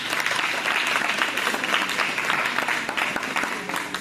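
A church congregation claps together in a dense, steady round of applause that fills the room, loud and sustained for the whole stretch before it thins slightly at the end.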